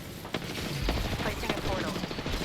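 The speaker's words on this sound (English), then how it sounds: "Getting shot at." Repeated gunfire in the video game Apex Legends, a mix of sharp shots and bursts scattered through a busy, dense game soundscape, moderately loud with no talk.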